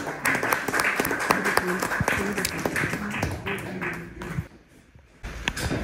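Audience applause at a Pothwari poetry mushaira during a mother-tongue festival in Rochdale, UK: steady clapping from a crowd that thins briefly, then resumes, with voices mixed in.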